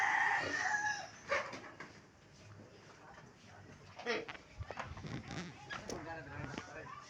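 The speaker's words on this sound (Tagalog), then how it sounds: "Dito tayo sa mga manok namin guys." Farm chickens, a rooster crowing and hens calling at modest distance, quiet and somewhat faint, with a dog bark and people talking in the open air.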